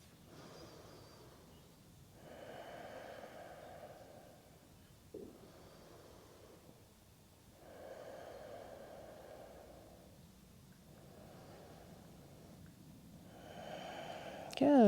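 Slow, deep breaths during a yoga flow, with long audible inhales and exhales rising and falling in a steady rhythm, close and soft in a quiet room.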